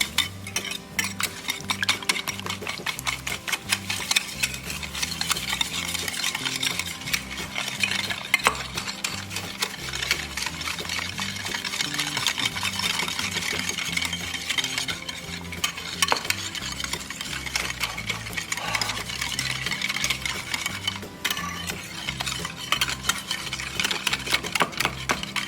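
Ingredients and sugar being mixed together in a bowl for chai bread pudding: continuous close scraping and stirring with a busy, even rhythm for around twenty-five seconds, no talk.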